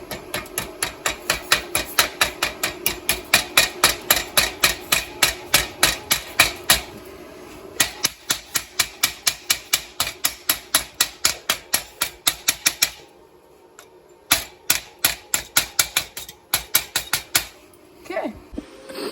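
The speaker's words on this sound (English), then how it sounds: "I love taking off the slag." Rapid, steady metallic tapping, dozens of sharp hits in quick bursts with brief pauses, as a chipping hammer knocks slag off a fresh weld.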